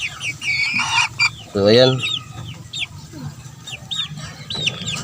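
Caged chickens cluck near and clearly, with one louder call rising mid-way and others scattered throughout, while someone speaks briefly in the background.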